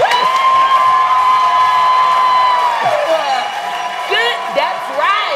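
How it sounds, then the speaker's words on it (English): A studio audience cheers and whoops for a newly introduced guest, a licensed therapist and grief counselor, with loud sustained shouting and clapping, voices rising and falling over several seconds. "Yes, clap for our new friend."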